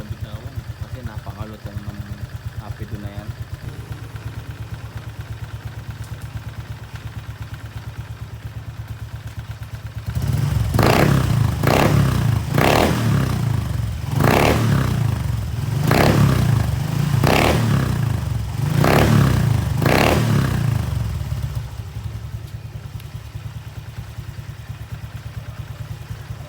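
A motorcycle engine with an aftermarket Apido V4 exhaust pipe idles low, then revs in a series of sharp, loud bursts with a crackling exhaust, settling back to idle near the end.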